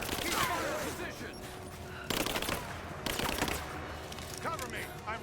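Gunfire in the Rise of the Tomb Raider game, sharp bursts of rapid shots with two loud cracks at roughly two and three seconds, plus clattering mechanical noise.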